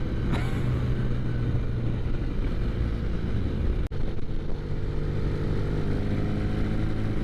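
A Norton Commando motorcycle engine idles steadily while still warming up, a continuous low rumble with a steady hum and one brief sharp click midway.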